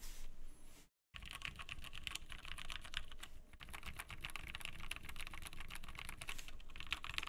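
Rapid, continuous clacking of a mechanical TKL keyboard, a prototype build, close and steady, with a brief silent gap near the start.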